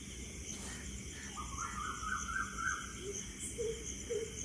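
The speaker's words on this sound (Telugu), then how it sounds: "చూడండి పక్షులు ఎలా వస్తున్నాయి, కోయిళ్ళు" In the early morning, birds including koels call faintly in short whistled phrases, with a soft, steady hum of insects behind them.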